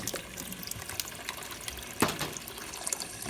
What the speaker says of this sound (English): So I have water started over here